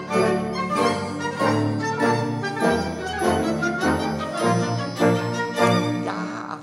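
A full symphony orchestra, the Munich Philharmonic, plays a strutting, king-like passage from The Sorcerer's Apprentice, with loud, steady rhythmic chords and accented beats throughout.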